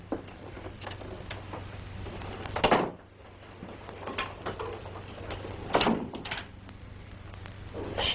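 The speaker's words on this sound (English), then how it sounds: "You locked my door." A door inside a house closes with a sharp thud, and a few seconds later a second latch-and-lock clunk follows. Both knocks are close and distinct against a quiet room hum, and no one speaks.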